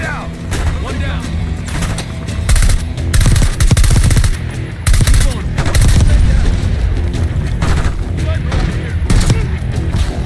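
In Call of Duty Black Ops 6 gameplay, a grenade blast and heavy gunfire go off in loud, dense bursts of rapid shots and booms across the whole stretch, broken by brief lulls.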